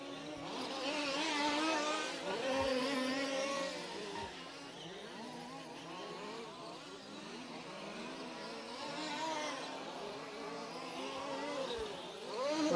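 Small RC off-road race cars whine and buzz around an AstroTurf track with a tire chicane at a large-scale British championship final, several engines overlapping continuously at mid distance, rising and falling as they pass.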